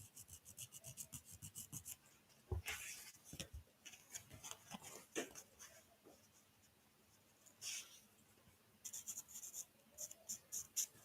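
A Sharpie marker scratches quietly across sewing elastic in short, uneven rubbing strokes, with a few brief pauses and some faint handling noise in between.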